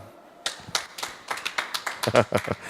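A small studio audience at a French live show breaks into clapping after a quiet start, with irregular claps building in density and loudness over a couple of seconds, some voices mixed in.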